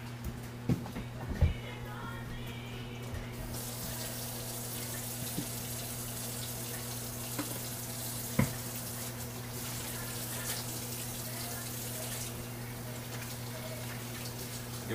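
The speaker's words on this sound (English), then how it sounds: "give our hands a wash here" Hands are washed under a running kitchen tap, giving a faint, steady rush of flowing water over a low background hum with a few small knocks.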